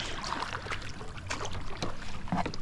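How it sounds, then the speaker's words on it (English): A fishing kayak paddled across water, with soft splashing paddle strokes and gentle water movement, quiet and close over a few seconds. "I'm casting and then paddling towards him"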